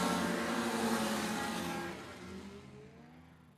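Racing hovercraft engines roar up a hill, a loud buzzing drone that fades steadily as the craft move away into the distance.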